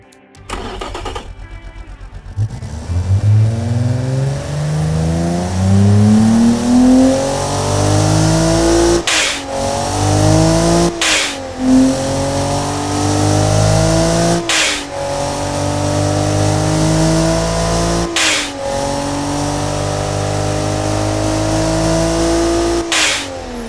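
Virtual TB48 engine in the Automation car-building game, with an adjusted exhaust system, starting up and revving loud and close, repeated rising throttle sweeps broken by sharp shifts or throttle cuts, no talk.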